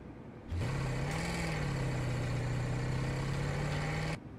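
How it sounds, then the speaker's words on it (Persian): A steady synthetic car engine hum in Forza Horizon's LEGO expansion starts abruptly, briefly rises in pitch, then holds an even idle drone before cutting off sharply. "میتونیم صدای موتور رو عوض کنیم"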